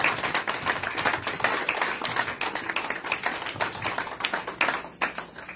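A church congregation claps during a ministerial recognition service, giving steady, moderately loud applause with a rhythmic tapping quality that carries on without pause.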